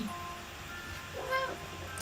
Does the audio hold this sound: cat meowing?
yes